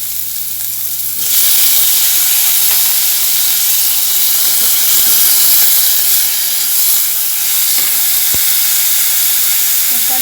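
Tomatoes dropped into onions frying in a hot pan for paneer masala dosa filling: a sudden loud sizzle and hissing steam bursts in after a quiet second, then keeps crackling steadily with faint stirring clicks.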